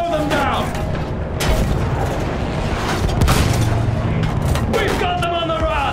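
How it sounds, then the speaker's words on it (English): Machine gun fire and explosive booms in a Battlefield 1 battle scene, dense and continuous, with shouted voices over the din. "Use that machine gun!"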